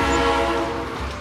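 A passenger train on the route from Purwokerto to Jakarta sounds a steady, loud horn-like tone over continuous rumbling rail noise, close and unbroken throughout.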